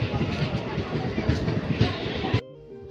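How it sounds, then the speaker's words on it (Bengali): A crowded passenger train slowly entering Bongaon Junction station, heard from inside: a loud, dense rumble and rattle of the carriages that cuts off abruptly near the end, with a low hum left behind. "অনেকটা স্লো ঢুকছে স্টেশনে, বনগাঁ জংশন।"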